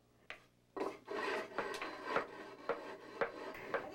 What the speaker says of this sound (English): where we get our grog is from old pottery shards and new pottery shards, which we grind on the matati